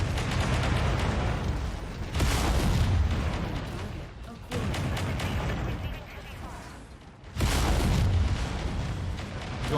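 Dumbfired missiles launching and exploding in MechWarrior 5: Mercenaries, heavy booming blasts in three loud waves with rolling rumble between, dense and close.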